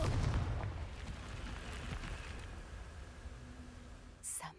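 A blasting-curse spell in Hogwarts Legacy detonates with a heavy, booming explosion up front that rolls into a long rumbling, crackling decay, ending with a sharp bright burst.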